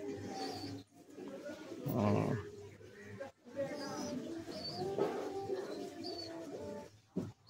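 Soft coos of Giribaz pigeons rise and fall over several seconds against a busy background, with voices faintly present.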